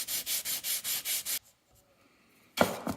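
220-grit sandpaper rubs back wooden window trim veneer in about seven quick, even strokes. After a short quiet pause, a couple more close strokes follow.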